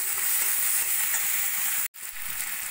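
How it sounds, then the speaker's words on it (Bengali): Tomatoes and green chillies frying with onions in a pan, giving a steady, loud, close hiss of sizzling oil that cuts out abruptly for a moment near the end before resuming. "টমেটো কাঁচা লঙ্কা দিয়ে 2-3 মিনিট মতো ভাজা ভাজা করে নিয়ে"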